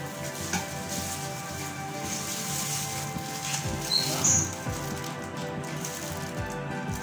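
Cooking oil sizzles in a pan for an egg kofta curry, a steady crackling hiss with scattered spits and pops, fairly close and without talking.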